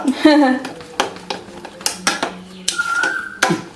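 A spoon clinks and taps against a bowl while wheat dosa batter is mixed, with a few sharp knocks spaced irregularly. A brief voice-like tone is heard near the start.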